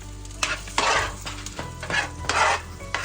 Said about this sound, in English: Let's mix it all around.